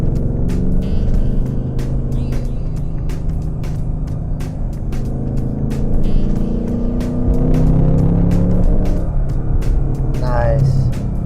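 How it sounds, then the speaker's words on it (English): 2024 Ford Mustang fitted with an MBRP exhaust accelerating on the road, a steady low growl with rising pitch sweeps heard from the cabin, punctuated by repeated clicks or taps. "Let's hear how the exhaust sounds."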